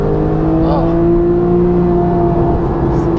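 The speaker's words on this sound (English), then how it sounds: "can you hear that engine?" A Porsche 911 GTS engine with a PDK gearbox holds a steady high-pitched rev at 7,000 RPM, loud and close, droning evenly for several seconds.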